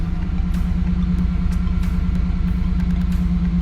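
A modified truck engine runs at a steady idle, a loud, close, continuous low rumble with a slightly uneven throb and no voices over it.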